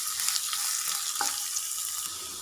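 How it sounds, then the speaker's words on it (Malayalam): Chopped large onion sautéing in a pan for a masoor dal curry, a steady close sizzle with a few soft scrapes of stirring, no voices. "ഒരു വലിയ സവാള ചെറുതായി അരിഞ്ഞു വെച്ചിരിക്കുന്നത് ഇതിലേക്ക് ചേർത്ത് കൊടുക്കണം. നന്നായിട്ടൊന്ന് ഇളക്കി കൊടുക്കാം."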